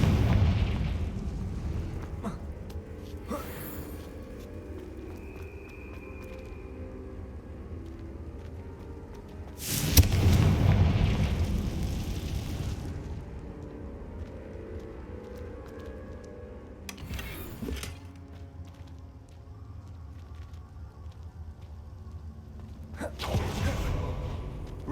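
In Hogwarts Legacy, the Confringo blasting spell sets off several heavy booming explosions spaced seconds apart, each one loud with a rumbling decay, separated by quieter game ambience.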